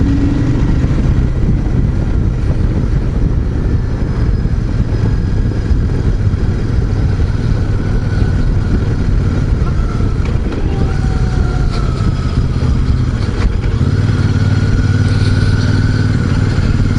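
A Royal Enfield Super Meteor 650 in Celestial Red runs continuously, a steady, loud low rumble of the twin engine, close and unbroken throughout.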